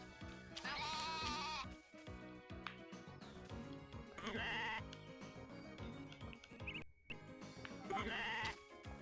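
Sheep bleating on a farm in Story of Seasons: A Wonderful Life, three drawn-out wavering bleats spaced a few seconds apart, heard over steady background music.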